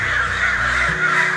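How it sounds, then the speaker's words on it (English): A loud, harsh caw from a crow, close and drawn out, with no other sounds. "Sounds like some crows aren't too happy to see me here"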